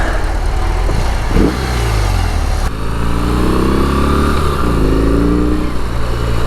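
A BMW R18 First Edition motorcycle pulls uphill at about 40 mph in second gear, its engine loud and close as it revs and accelerates, with rising pitch after a brief shift and steady wind noise.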